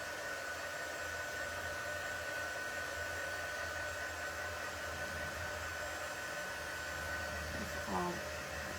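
A dryer blows steadily and close, a constant airy whoosh with a low hum that holds at an even level throughout, with a faint brief sound near the end.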